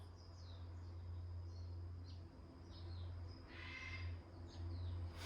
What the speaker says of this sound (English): I'm just listening to birds.